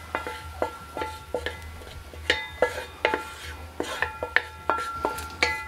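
Bacon jam is stirred in a hot pan on a Broil King grill. A utensil scrapes and clinks against the pan in a quiet, irregular rhythm of sharp knocks over a faint background.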